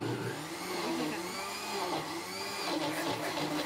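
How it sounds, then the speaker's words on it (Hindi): A juicer blender whirs steadily with mango and ice cream inside, a close, loud, continuous motor drone with a slightly shifting pitch as the contents churn. "दोबारा से इस जूसर को चलाऊँगी"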